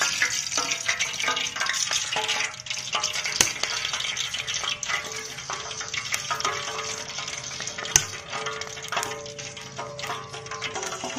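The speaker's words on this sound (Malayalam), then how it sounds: "ചട്ടി ചൂടായിട്ടുണ്ട്. അതിലേക്ക് നമ്മൾ എണ്ണ ഒഴിച്ച് കൊടുക്കുക." Oil sizzles and crackles steadily in a hot pan while Kerala-style chicken ada is being made, a dense continuous frying hiss with occasional sharper pops and clinks, close up and with no voices.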